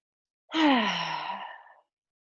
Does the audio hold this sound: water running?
no